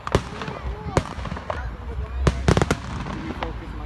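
Fourth of July fireworks bursting outdoors, several sharp cracks and booms at uneven intervals, some clustered close together, over a steady background rumble with people talking nearby.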